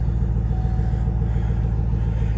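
A cold Camaro ZL1 1LE engine idles loudly and steadily up close, a deep rumbling burble with a fast, even pulse.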